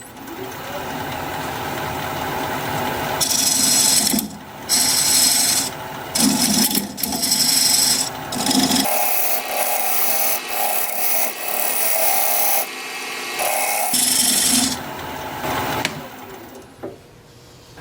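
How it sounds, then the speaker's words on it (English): A diamond point tool cuts an olive wood tenon on a lathe, giving a steady rasping, scraping whir in repeated bursts with short pauses between passes, loud and close. "use this diamond point tool to straighten up the sides of the tenon"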